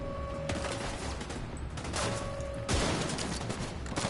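Dense game gunfire rattles on continuously, loud and close, with a few sharper shots and a heavier hit near the middle, steady crackling filling the whole stretch without talk.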